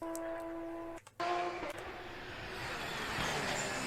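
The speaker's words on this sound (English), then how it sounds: "Again, pop on the downshift." Race car engine note dropping out briefly, then a short exhaust pop on the downshift before the noisy engine roar builds again; loud, no talk.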